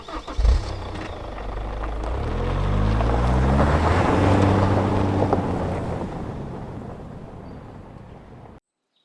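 A car pulls away and drives off toward a site, its engine note rising in pitch as it gathers speed, then holding a steady, loud drone with wind rushing past before cutting off abruptly.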